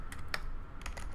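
Keystrokes tapped on a computer keyboard, a few distinct clicks at a steady desk-side distance, moderately quiet with no voices.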